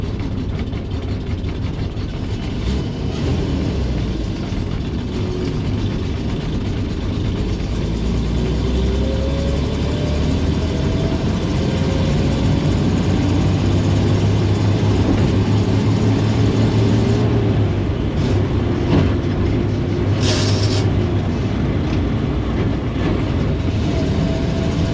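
A 1961 GMC COE truck's engine runs steadily and loud at close range, missing slightly, with a continuous low mechanical rumble and rattle throughout and no talking.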